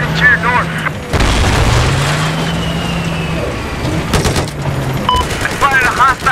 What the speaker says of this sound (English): There appears to be an enemy machine gunner operating to your north.